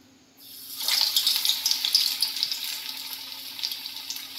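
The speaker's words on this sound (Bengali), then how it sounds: "তেলটা গরম হয়ে গেছে, এবার আমি এক এক করে ফুলকপিগুলো দিয়ে দেবো।" Cauliflower pakora dropped into hot oil for deep frying, a sudden loud sizzle that rises and then settles into a steady crackling bubbling, close by.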